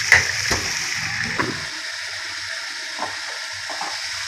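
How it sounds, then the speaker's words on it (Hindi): Fish masala gravy for fish korma frying in a pan, a loud initial sizzle and stirring clatter settling into a quieter steady hiss with occasional utensil taps. "फ़िश मसाला ऐड करने के बाद इसको अच्छी तरह से भूनेंगे"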